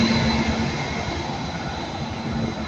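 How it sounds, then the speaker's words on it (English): A train idles at a station on a Cardiff Central service, a steady low engine drone with constant rumbling hum and no distinct events, close and continuous. "this is my train back to Cardiff Central"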